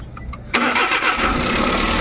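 A Suzuki Every Wagon with a misfiring engine cranks briefly and then starts, settling into a steady close idle.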